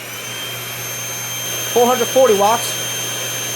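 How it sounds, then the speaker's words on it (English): A 220 watt vacuum cleaner drones steadily and closely beside a 45 watt floor fan and a 200 watt convection oven, all powered by an Egretech Plume 300 portable power station, with a brief spoken phrase over the hum. "45 watt floor fan, 200 watt convection oven, and a 220 watt vacuum cleaner for a total of around"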